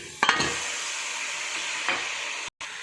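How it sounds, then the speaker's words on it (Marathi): Steady, loud sizzling of chicken frying in a pan, with a couple of stirring scrapes and a brief cut-out near the end. "आता आपले चिकन चांगलं याच्यामध्ये परतून घेऊ आणि शिजू देऊ"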